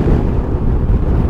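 Wind buffets a rider on a 2021 Honda Forza 125 motor scooter with the windscreen lowered, a steady, loud, low roaring rush that fills the whole stretch with no talk.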